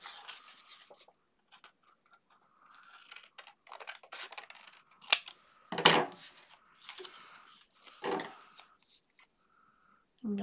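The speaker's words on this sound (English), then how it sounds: "I'm going to just trim around where I traced." Scissors trimming paper around a traced line for a 6x6 mini album, making close, irregular snipping and rustling bursts with short pauses between cuts.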